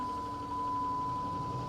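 A car engine idles after a key start, a steady close rumble with a constant whine running through the short stretch, no speech.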